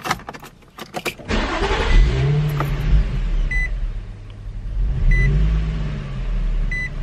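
Infiniti G35 engine with a low-RPM idle stall fault, heard after key jingles and a starter crank, then catching and idling with a low steady rumble that swells in revs, close, with faint periodic chimes.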